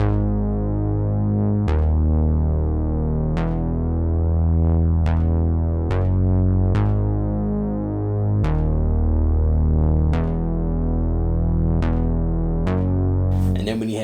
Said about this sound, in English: the bass line ended up sounding like this